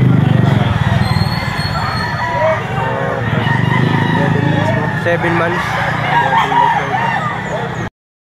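Roosters and hens at a crowded poultry auction market, crowing and clucking layered over a constant din of birds, with someone talking loudly over the noise throughout.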